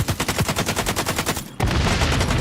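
Rapid automatic gunfire from the player's weapon in the shooter game XDefiant, a steady burst of evenly spaced shots lasting about a second and a half, then cutting into a dense wash of continuous noise.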